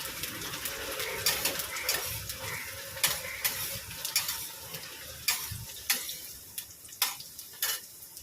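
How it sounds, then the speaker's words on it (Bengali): Salt and turmeric are stirred into hot sizzling oil in a home kitchen, giving a steady frying hiss with sharp clinks and scrapes recurring throughout. "একটু নুন হলুদ দিয়ে দিলাম তেলের মধ্যে"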